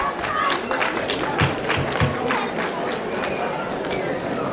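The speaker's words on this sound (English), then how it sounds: "Please give a big round of applause and welcome the participants for the second story." Applause and crowd noise as child performers are welcomed at a Ganesha festival storytelling event, scattered claps over chatter, with a few dull thumps of movement on stage.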